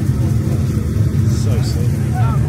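A supercharged Holden Commodore twin VL engine idles with a deep, heavy, lumpy rumble close by, loud and continuous, while people talk over it.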